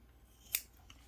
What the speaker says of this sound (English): Now clip the corners